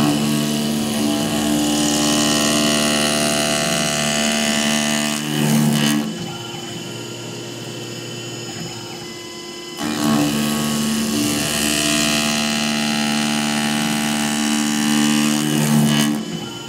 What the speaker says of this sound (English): I still think it's so cool to watch the Tormach machine those bevels